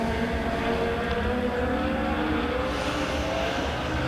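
Legend race cars howling around Springfield Raceway during a heat race at the Turkey Bowl, a dense, continuous engine roar from several cars at once, loud and steady throughout.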